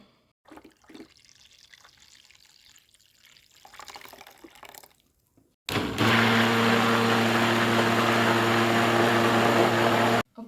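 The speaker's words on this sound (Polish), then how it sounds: "Więc zaraz dolewam wodę." Water pouring into homemade pineapple juice: a short spell of quieter handling sounds, then a loud, steady rushing pour with a ringing tonal hum that lasts about four seconds before stopping abruptly.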